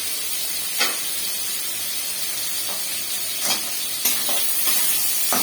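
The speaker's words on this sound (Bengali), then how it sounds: "একটু ভেজে নিই" Stems, beans, potato and papaya fry in hot oil with a loud, steady hiss and sizzle, broken by a few soft scrapes of a spatula stirring the pan.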